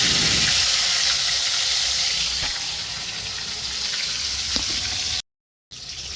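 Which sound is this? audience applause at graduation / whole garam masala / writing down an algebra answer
whole garam masala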